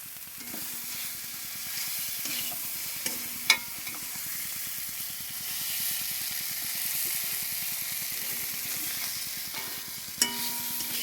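Food sizzles and fries in a pan while it is stirred and sautéed. A steady frying hiss runs throughout, with scattered scraping clinks of the utensil, a few sharper knocks, and faint background voices.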